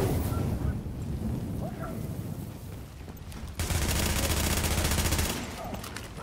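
Sustained gunfire in The Division, a loud continuous burst of rapid shots mixed with dense crackling noise during a firefight, swelling sharply midway and holding before easing off.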